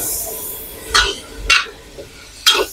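A utensil scrapes and clinks against a pan about three times in steady strokes while dried chillies and tom yam ingredients stir-fry, over a low background hum.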